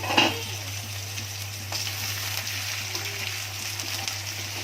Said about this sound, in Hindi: इसमें डाल रही हूँ अपनी काटी हुई घेवड़ा।